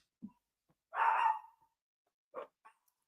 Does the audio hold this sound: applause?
no